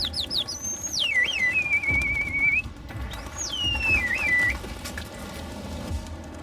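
A man whistles loudly and up close to call his pigeons back, giving a long sliding whistle with a wavering held note, a pause, and then a second, shorter whistle.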